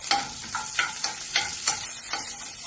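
Sliced onions sautéing in a pan as a spatula stirs them, a soft sizzle broken by regular scraping strokes about twice a second, close and quiet, with no talking.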